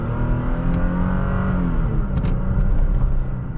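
A Toyota Tacoma TRD Sport pickup truck accelerates in a low gear, a steady loud engine drone rising slowly in pitch, heard from inside the cab with a few faint clicks.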